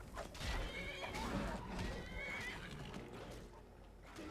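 A horse in Skyrim Special Edition lets out a long, loud whinny with hoof clip-clops underneath, the neigh rising and wavering before trailing off.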